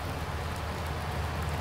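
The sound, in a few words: rain falling in the video game Farming Simulator 19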